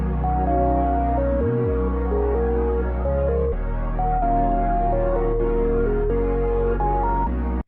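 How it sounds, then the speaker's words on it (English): A plain sine wave synth plays a simple stepped melody of sustained notes over a deep low tone, clean and steady, with no one speaking. "Right now it's just a sine wave."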